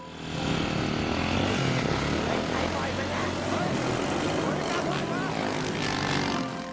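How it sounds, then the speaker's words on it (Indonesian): Loud motorcycle engines give a steady roar with a rough, buzzing drone that swells and holds for several seconds, talking faintly mixed in. "dengan motor bersuara bising yang membuat kacau lokasi"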